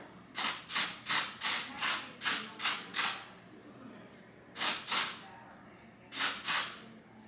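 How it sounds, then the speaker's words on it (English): Rapid bursts of hair spray hiss from a can in short pulses, a run of about eight quick sprays, a pause, then a few more in pairs, close and fairly loud. "if you're using this particular spray, it does come out pretty fast, so you want to kind of pulse it"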